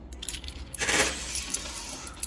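Coins tumble and clatter in a 10-peso coin pusher arcade machine, with a dense metallic jingle that swells near the middle and then thins into scattered clinks.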